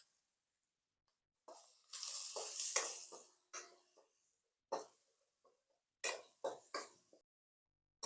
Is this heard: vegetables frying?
yes